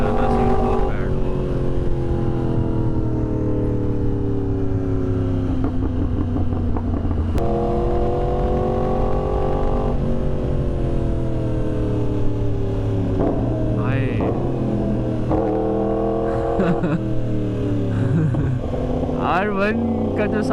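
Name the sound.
Yamaha R1 crossplane motorcycle engine riding at night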